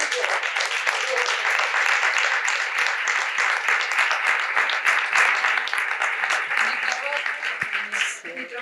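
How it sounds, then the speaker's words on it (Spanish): An audience breaks into dense, sustained applause, many hands clapping together in a bright, steady roar that thins out near the end. "Y el aplauso es para vos"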